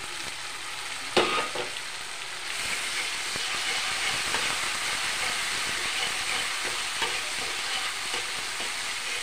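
Sidol, a fermented fish, fries in oil with onion, chili and garlic paste. A steady, continuous sizzle carries through, with a sharp clatter near the start and light stirring scrapes throughout, and no one speaks.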